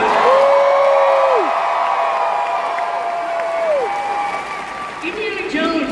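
A large arena crowd at a D23 Parks panel at the Honda Center cheers and applauds continuously, a steady roar of clapping with drawn-out whistles and whoops rising above it.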